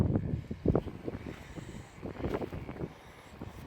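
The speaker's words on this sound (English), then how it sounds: "Hope it's not too windy for you." Low, rumbling gusts of wind buffet the microphone in uneven surges on an allotment, with faint outdoor ambience beneath.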